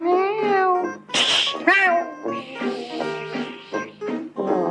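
A voice imitates a female cat in heat, a run of drawn-out, wavering meows and yowls delivered close and loud without pause.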